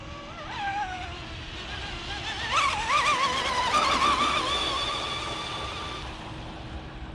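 A JAE 33FE radio-controlled boat with upgraded electronics runs at full throttle, a steady high whining motor drone that rises in pitch and swells through the middle, heard from a moderate distance with no talk.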